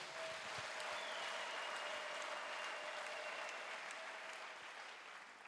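A church congregation applauds steadily for several seconds, a dense even clapping that holds at full strength before easing slightly at the end, with no talk over it.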